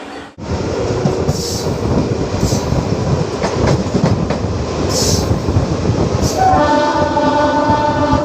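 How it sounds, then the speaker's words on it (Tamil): A MEMU express passenger train runs between Tiruppur and Palakkad in India. Its loud, continuous rumble is heard from close by, with rhythmic wheel clatter and, near the end, a sustained horn. "நம்ம ட்ரெயின் பார்த்திங்கன்னா ஒரு மெமோ எக்ஸ்பிரஸுங்க."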